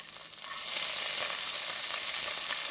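Black nightshade leaves (manathakkali) go into hot oil with sautéed onion for a gravy and set off a loud, continuous sizzle and crackle that rises sharply and then holds steady.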